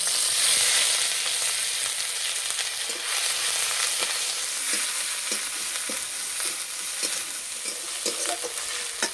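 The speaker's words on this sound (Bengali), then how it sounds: "এই তেলেই রান্না করে নেব। তেলে দেবো গোটা গরম মশলা, বেটে রাখা আদা, রসুন," Whole garam masala, ginger, garlic and onion fry in hot oil with a loud, dense, continuous sizzle, broken by occasional soft stirring taps, no talking.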